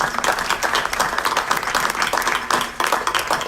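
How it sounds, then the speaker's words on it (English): Audience at an Aurora City Council meeting applauding Terry Simmons, a lively round of many people clapping with uneven bursts and brief dips. "Let's give Terry a round of applause."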